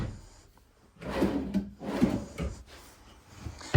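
A deep wooden drawer in a 2026 Sanibel 39BUNK fifth-wheel trailer sliding open and shut a few times, with rubbing and soft knocks, fairly close.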